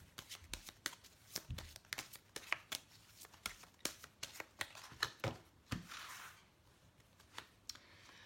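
Angel oracle cards being shuffled and drawn, a quick run of soft, close riffling slaps and flicks in an irregular rhythm, quiet and heard without talking.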